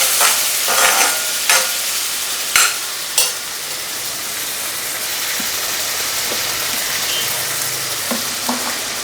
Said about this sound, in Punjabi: ਜਿਹੜੇ ਦੋ ਟਮਾਟਰ ਤੇ ਪੰਜ ਸੱਤ ਹਰੀਆਂ ਮਿਰਚਾਂ ਲਈਆਂ ਸੀ ਉਹ ਪਾ ਦਿੰਦੇ ਆ ਇਹਨਾਂ ਨੂੰ ਵੀ ਆਪਾਂ ਚੰਗੀ ਤਰ੍ਹਾਂ ਭੁੰਨਾਂਗੇ